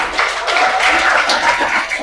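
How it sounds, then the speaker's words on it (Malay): A class of students claps for a classmate in a lesson on early adolescent development, a short burst of close, loud applause lasting about two seconds. "Bagi tepukan untuk kawan."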